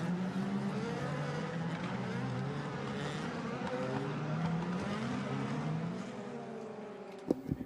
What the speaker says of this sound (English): So the cars then on the second of their warming up laps.